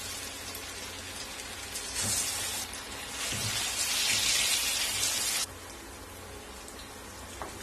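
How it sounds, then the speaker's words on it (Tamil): Marinated chicken pieces deep frying in hot oil, a steady broadband sizzle that swells louder for a few seconds midway before settling back to a constant hiss. "இப்போ நம்ம நல்லா பரட்டி விட்டு எண்ணெயில போட்டு பொரிச்சு சிக்கன் பீசஸ் எண்ணெயில போடலாம்."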